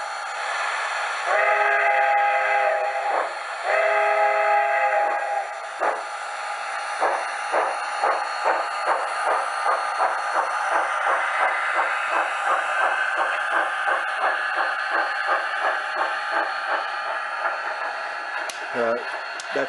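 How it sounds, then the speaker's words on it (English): A model train locomotive runs through a turnout, opening with two sustained harmonic whistle blasts, then a steady rhythmic chuffing that carries on to the end, fairly loud and close, with no talking. "we'll run the loco through there and change the turnout"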